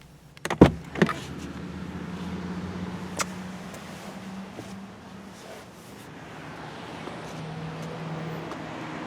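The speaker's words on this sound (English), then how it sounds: "The seat and steering wheel scoot out of the way to help with easier entry and exit." Power seat and steering wheel motors in a 2017 Lexus LS 460 cabin give a faint, steady electric whir for several seconds, following a couple of soft clicks.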